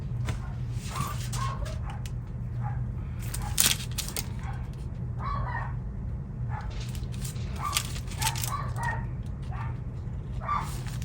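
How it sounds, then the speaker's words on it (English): Several dogs barking and yipping in a home, intermittent short barks and whimpers spread across the moment, moderately distant under a steady low hum. "I don't know why my dogs are barking"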